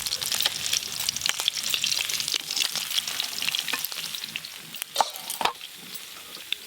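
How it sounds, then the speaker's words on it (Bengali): Koi fish fry in hot oil for tel koi, a dense crackling sizzle peppered with sharp spits and pops, plus a couple of louder knocks of stirring near the end. "তেল কইয়ের জন্য কই মাছ তো ভাজা হয়ে গেল"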